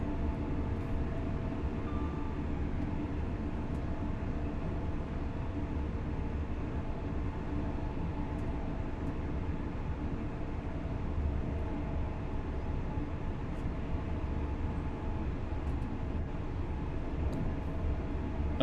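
A virtual LNER Azuma Class 801 train running in diesel mode in Train Sim World 4, heard as a steady, continuous low engine and rail rumble with faint tonal hum, unbroken and even throughout.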